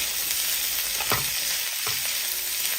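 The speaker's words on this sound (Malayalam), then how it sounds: "രണ്ട് പച്ചമുളക് നീളത്തിൽ കട്ട് ചെയ്തും കൂടി ഇട്ട് കൊടുക്കാം ഒന്ന് ഇളക്കി കൊടുക്കാം" Sliced green chillies sizzle and fry in hot oil in a pan, with a couple of soft stirring scrapes against the steady crackle, close and alone.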